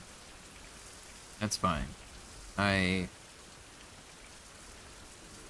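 Steady rain falls in a survival video game, a soft continuous hiss filling the background while a person speaks briefly twice over it.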